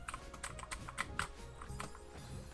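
A computer keyboard clatters with quick, irregular keystrokes during game play, faint and close, with no voices over it.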